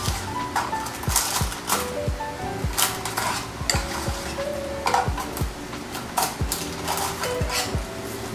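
Baked cookies are lifted off a metal baking pan in a cooking lab. A spatula scrapes and clinks repeatedly in a steady rhythm against a soft tonal background.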